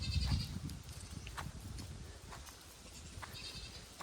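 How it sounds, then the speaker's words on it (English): Goats on a farm bleating in short calls at a moderate distance, over a low rumble of handling noise. "There's the goats."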